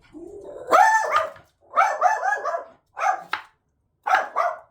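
A dog barks loudly and close by in a home kitchen during cooking, in several bursts of yelping barks separated by short pauses, with no talk over it.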